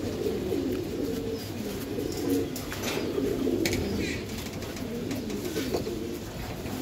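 Giribaz racing pigeons kept for back-to-back tournaments coo in a dense, rolling series of low calls nearby, steady throughout with occasional faint clicks and chirps over a constant background hum.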